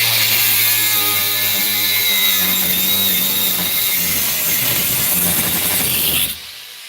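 DeWalt angle grinder cutting with its disc, a loud steady high whine with a grinding, rasping edge that holds for about six seconds, then cuts off abruptly.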